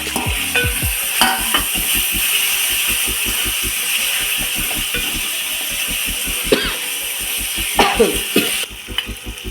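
Raw chana dal frying in a pan for a spicy chicken curry, with a steady sizzle and a rhythmic run of light scraping stir strokes, close and continuous, briefly fading near the end.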